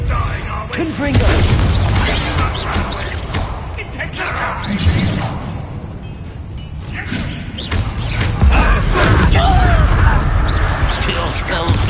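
In the Hogwarts Legacy video game, a Confringo spell explodes with loud booms and whooshing blasts amid chaotic combat noise, with voices shouting over the clash.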